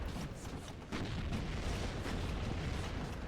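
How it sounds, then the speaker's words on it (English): Bradley fighting vehicles firing on a tank in the war game WARNO, a dense, loud wash of battlefield gunfire and booming blasts that runs without a break. "Those are our Bradleys firing now."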